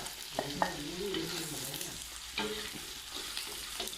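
Scallion, ginger and two star anise hit hot oil in a pan, giving a soft continuous sizzle with occasional stirring scrapes and faint background tones.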